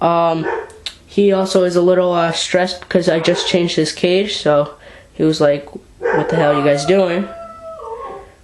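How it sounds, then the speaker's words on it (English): Dogs bark and howl loudly nearby under and between a person's continuous talking, with drawn-out howls mixing with the speech. "Excuse my dogs."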